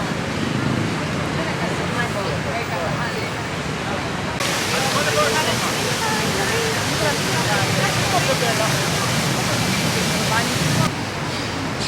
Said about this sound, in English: this is Syntagma Square with its fountains and waterfalls.